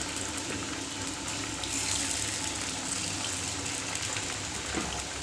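Marinated soybean pakoras frying in hot oil, a dense, steady crackling sizzle that holds at an even level throughout, close and loud.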